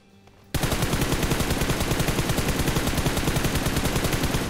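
Gunfire in the mobile battle game PUBG Mobile, a sudden loud, rapid automatic burst that keeps rattling continuously without pause, close and alone.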